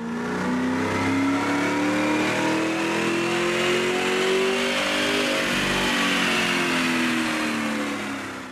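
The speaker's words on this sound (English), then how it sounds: "We begin with the baseline dyno run." A 2005-2009 Mustang GT V8 with a BBK cold air intake revs hard on a chassis dyno, a steady, loud engine roar whose pitch climbs smoothly through the pull for several seconds with no talking.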